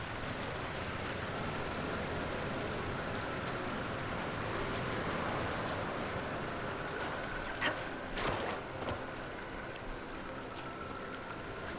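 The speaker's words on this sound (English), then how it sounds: "Ooh, what is this? Just a waterfall." Steady rushing water of a waterfall in Dragon Age: Inquisition, in the Frostback Basin, a continuous even wash with a few brief louder splashes near the end and no talk.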